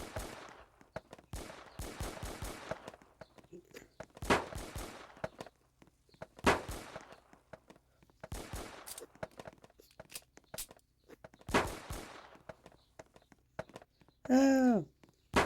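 Gunfire rings out at a shooting range in the Roblox game Brookhaven: clusters of sharp, fairly quiet shots come in short rapid bursts separated by pauses, followed by a brief tonal chime near the end.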